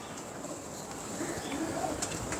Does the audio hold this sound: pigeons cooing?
yes